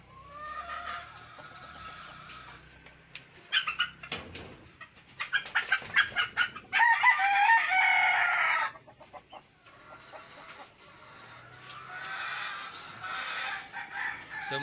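A chicken at a breeding yard crows loudly nearby with a drawn-out call mid-clip, surrounded by clucking and other fowl calls, with softer crowing again near the end.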